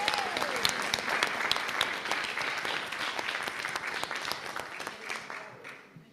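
Audience at an annual academic meeting in Zanzibar claps steadily for about six seconds, a dense, even round of applause that tapers off slightly at the end.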